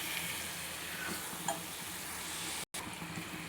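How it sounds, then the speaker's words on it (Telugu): A pan of nalla curry frying steadily, a dense continuous sizzle with faint stirring scrapes, close and even throughout, broken by one brief silent gap near the end. "10 నిమిషాలు ఫ్రై అయింది కూర"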